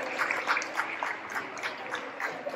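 Audience applause for a children's Ramayan skit, a steady wash of many hands clapping at moderate distance, fairly soft and continuous with no voices over it.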